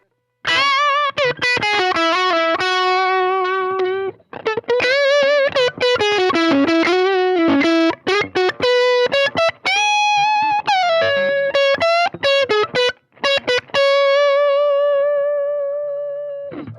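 Electric guitar on the neck pickup through a Marshall Class 5 amp plays a melodic lead line with bends and slides, a warm, sustained tone with slight grit, loud and close with no talking.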